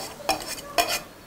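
Hot fried onion is stirred into a herb filling for kurze, heard as two short, close scraping strokes against a bowl over a faint background, with no voices.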